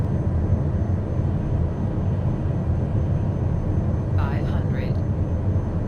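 Small fixed-wing aircraft on final approach to runway 6, its engine a steady, loud, continuous drone that fills the whole clip, with a brief radio-like voice fragment near the end.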